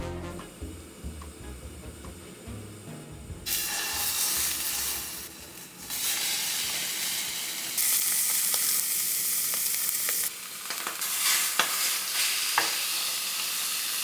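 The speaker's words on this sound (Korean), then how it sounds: "다음으로는 삼겹살을 냄비에 겉면을 노릇하게 시어링 하겠습니다" Pork belly sizzles loudly as it sears in a hot pot, a constant frying hiss that swells when pieces are moved, with occasional clinks and scrapes.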